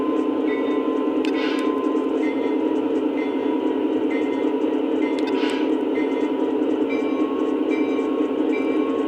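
An F40PH diesel locomotive on the Panama Canal Railway drones steadily up close as its engine shifts throttle notch, with a constant mechanical hum and a few brief metallic clanks.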